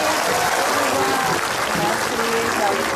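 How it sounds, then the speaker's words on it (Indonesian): A television talk-show studio audience applauds for a guest, with a dense, loud, continuous wash of clapping that fills the whole moment. "Tepuk tangan dulu buat Donita nih"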